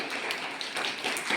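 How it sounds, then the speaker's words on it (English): Students at a school morning assembly clap together, a dense, steady patter of many hands sustained throughout without a break. "all of you clap, and clap for them"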